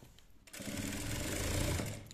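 A sewing machine runs steadily for about a second and a half, stitching a folded belt on a lined blouse, a close, even whirring drone with no talk.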